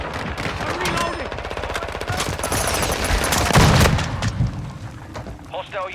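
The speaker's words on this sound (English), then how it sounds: "Taking effective fire." Rapid automatic gunfire crackles in a Call of Duty Warzone 2.0 firefight, dense bursts with booming impacts, fairly loud and close, fading toward the end while a voice speaks intermittently.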